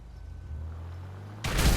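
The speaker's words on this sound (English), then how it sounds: "and watch it blow up, which we've done." A grenade going off beside a car in Grand Theft Auto V, where a low engine-like hum gives way to a sudden loud explosive blast that fills the last moments.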